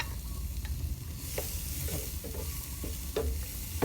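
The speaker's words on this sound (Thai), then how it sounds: "ผัดให้มันหอมกันนะครับผม" Chopped shallots, garlic and onion stir-fried in a pan on a small stove, a steady low sizzle broken by several scraping spatula strokes, close and moderately loud with no talk.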